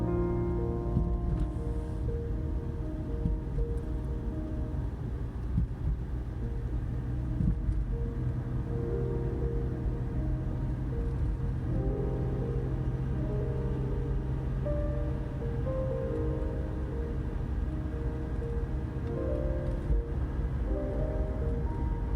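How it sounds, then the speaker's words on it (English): The engine of the Miller Mobile motorhome strains uphill on a mountain road, a steady loud low rumble with a sustained drone that holds throughout, with no voices. "here we're coming up to our first stretch where we really have to rev her up, and the Miller Mobile has to put in a little extra effort"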